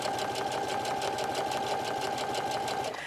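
A sewing machine runs steadily and close, its needle pumping in a fast, even rhythm while stitching a row of top stitching on a tuffet, then slowing slightly at the end.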